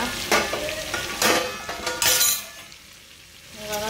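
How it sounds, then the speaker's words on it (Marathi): A steel lid lifted off green chicken tandoori cooking in a pan at home, bringing strong sizzling and frying with a few metallic clinks, then the sizzle softening. "तर मंडळी आता आपण झाकण काढून घेऊया."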